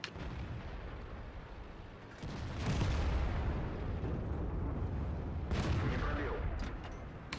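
Tank gun firing in a tank battle video game, with two heavy booming shots a few seconds apart, each followed by a rumbling roll-off over a continuous engine drone.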